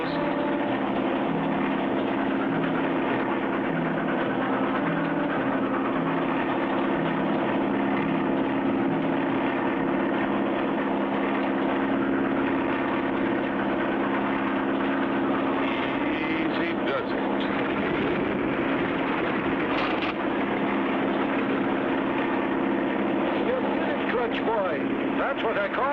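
A small airplane flies low over a runaway train, its engine drone steady and loud throughout, with a rumbling, mechanical texture and a brief shift in tone near the end, under a speaking voice.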